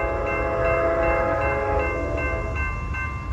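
An Amtrak Southwest Chief passenger train, led by a P42 locomotive, rolls through a railroad crossing with a loud, close, steady rumble, its horn sounding a sustained tone over the passing wheels.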